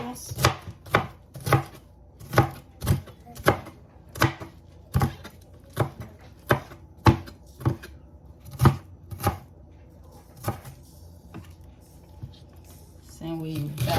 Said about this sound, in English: Just dice it the way you dice the onions.